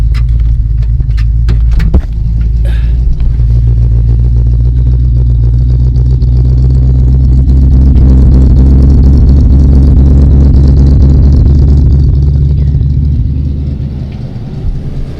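A 1967 AMC Ambassador barn find, running for the first time in years, drives along with a loud, steady low engine rumble and drone that holds for the whole stretch, easing off slightly near the end.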